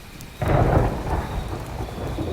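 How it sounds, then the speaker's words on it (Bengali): A loud thunder strike from a distance on a rainy night in a village, a sudden deep rumbling boom that swells and then fades under steady falling rain. "দূর থেকে এত জোরালো বাজ পড়ার শব্দে"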